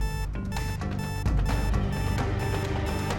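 A safe alarm rings in a steady, loud electronic tone that continues throughout, with no voices.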